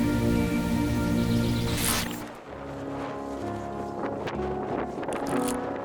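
Steady broadband wind rushing across the microphone on a mountain shoulder on the way up Hoverla, loud and continuous, with gusts rising and falling and no voices.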